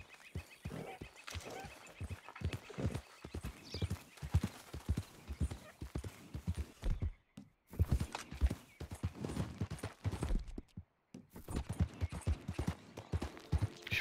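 Horse hooves clip-clopping at a walk in the Red Dead Redemption 2 video game, a steady run of close, distinct hoofbeats with a few brief pauses and no talk.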